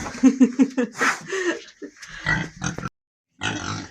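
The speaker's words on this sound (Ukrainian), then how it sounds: "А ростуть свинки, нічого не скажеш." Young pigs grunting and snorting close by in quick repeated bursts, with squeals mixed in, then a short pause before more grunts.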